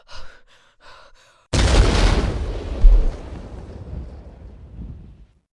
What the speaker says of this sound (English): It was just an explosion with tiny sparks